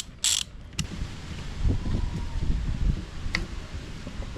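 A ratchet wrench on a 24 mm socket breaks loose the oil cooler bolt on a 120-series Toyota Prado engine, worked outdoors under a tree: a few sharp clicks over a low, rumbling strain of effort.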